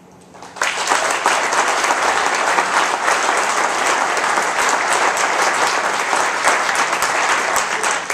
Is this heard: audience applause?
yes